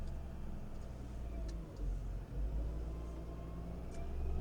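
A roll-off dumpster truck's engine, with the park brake off and the PTO in use, holds a low, steady rumble and rises slightly in RPM, heard from inside the cab with faint mechanical ticks.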